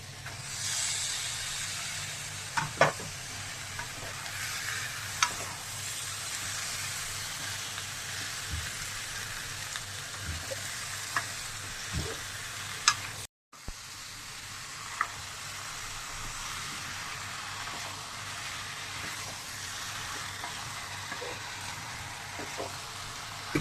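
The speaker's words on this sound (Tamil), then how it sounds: "இஞ்சி பூண்டு பச்சை ஸ்மெல் போக வரைக்கும் இதை ஃப்ரை பண்ணிவிட்டு அடுத்து சிக்கன் வந்து நம்ம சேர்த்துக்கணும்." Chicken frying with ginger garlic paste for a masala chicken fry, a soft continuous sizzle and hiss with occasional stirring clicks and scrapes, faint and steady throughout with a brief dropout midway.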